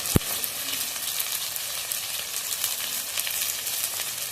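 Ground spices fry with tomato in hot oil for a spicy-sour crab curry, giving a steady, close sizzle throughout with no talking.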